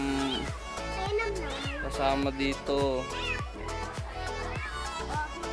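A cat indoors during home quarantine meows repeatedly in a series of loud, close, drawn-out cries with rising and falling pitch, while a person talks over it.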